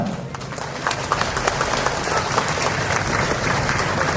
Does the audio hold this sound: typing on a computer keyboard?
no